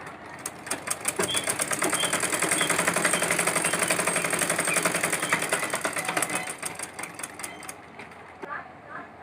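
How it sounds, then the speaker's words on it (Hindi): A sewing machine stitching a thin fold on a baby frock, its fast rhythmic needle clatter running steadily for several seconds before slowing and stopping, with someone talking over it. "अब जिस तरह हमने इधर इसकी मोड़ में सिलाई चलाई उसी तरह हम इधर भी इसकी मोड़ पे सिलाई चला देंगे।"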